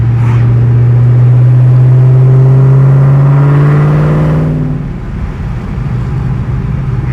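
A Mystichrome car's engine and exhaust drone loudly and close while cruising, a steady low tone that rises in pitch as it accelerates, then drops away into a softer idle-like rumble.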